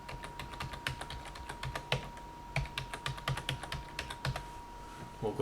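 Fingers typing a MySQL password on a computer keyboard, a close burst of irregular clicking keystrokes with brief pauses between groups, alone without speech, over a faint steady tone.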